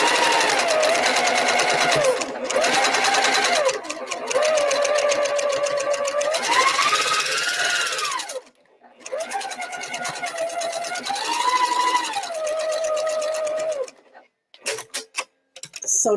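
A sewing machine pieces a quilt top in long bursts of stitching, its motor pitch rising and falling, with a brief pause after the first run and a stop near the end marked by a few clicks.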